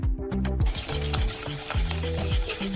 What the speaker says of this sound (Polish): Powstały sok i miąższ z melona wlewamy do rondelka, dodajemy cukier i mieszamy.